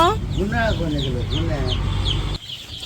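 Village chickens cluck and call for food close by, a busy run of rising and falling squawks with sharper clucks overlapping, while a person talks over them.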